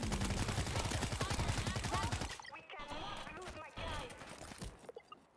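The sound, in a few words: gunshots in the video game World War Z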